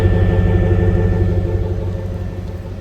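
A truck's 8.1 big-block engine idles close by with a steady, low rumbling throb that tapers slightly toward the end, no voices present.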